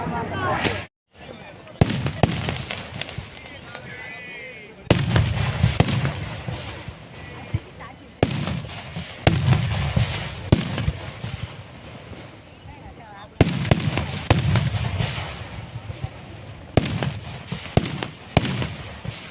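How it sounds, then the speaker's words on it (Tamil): Firecrackers burst at a temple festival for the Aadi Amavasai celebration at Eral Chairman temple, with loud crackling volleys arriving in repeated waves separated by brief lulls, and people talking through the noise. "இப்போ வந்து வெடி வெடிச்சிட்டு இருக்கு பார்த்தீங்களா"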